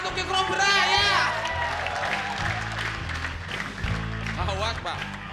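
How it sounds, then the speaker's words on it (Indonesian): Studio audience clapping for a comedy stage act featuring a King Cobra snake, a steady patter of applause under loud music and a host's lively voice throughout. "Oke, tepuk tangan untuk King Cobra ya."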